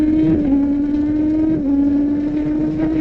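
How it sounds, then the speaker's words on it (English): A Kawasaki ZX-10R Gen6 sport bike with a quick shifter revs steadily at high RPM, its loud continuous engine tone dipping briefly at two points as it clicks up through the gears from second to sixth, with no talking. "let's see how this bike shifts in the higher RPM."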